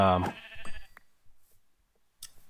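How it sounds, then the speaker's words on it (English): A sheep in the Minecraft video game gives a short, close bleat at the start, followed by soft clicks and a brief voice, then near silence. "Oh, that was a sheep."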